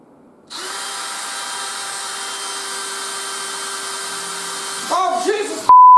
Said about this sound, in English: So you gotta get resourceful, use a drill.